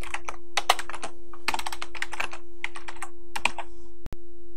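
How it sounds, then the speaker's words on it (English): Keys on a computer keyboard clatter in quick irregular bursts of typing, close and clear, with short pauses between clusters of keystrokes. "you can type in your text-based response"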